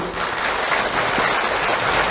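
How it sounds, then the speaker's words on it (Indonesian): Dense, steady applause from an audience at an Islamic religious lecture, a loud continuous wash of many hands clapping for about two seconds with no speech over it. "boleh tepuk tangan untuk Ahilman Bu"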